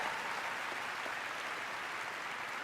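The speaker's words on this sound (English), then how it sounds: "So please, a round of applause for them." A large crowd at The Game Awards 2024 applauds continuously, a dense, even wash of clapping heard from a distance.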